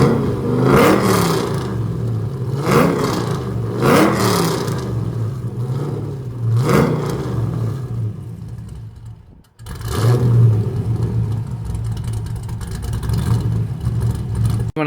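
An LS-swapped engine in a 1992 third-generation Chevrolet Camaro revs repeatedly in loud, rising surges over a steady idle, with a brief drop partway through before the rumble resumes.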